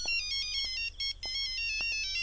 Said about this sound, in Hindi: विधायक जी का फोन